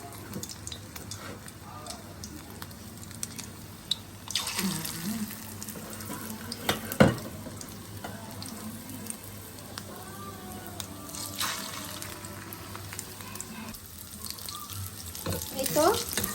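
Chitol fish kofta balls frying in hot oil make a steady, faint hiss and sizzle, with small clinks and splashes as more balls are dropped in; a voice talks quietly at times.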